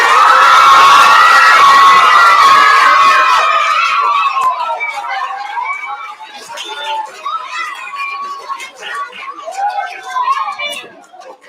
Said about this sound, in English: Round of applause for the fifth